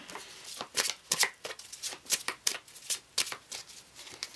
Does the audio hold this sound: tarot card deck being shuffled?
yes